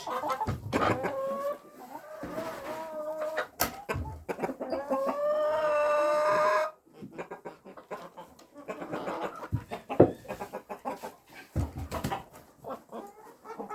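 Roosters cluck and crow nearby, with one long crow rising above scattered clucking and the clatter of movement.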